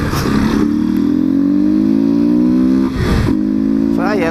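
A Honda XRE 190 motorcycle fitted with a BMW 310 exhaust roars loudly and close on a city street, its engine note rising steadily as it pulls, with a brief dip before revving again and someone talking over it.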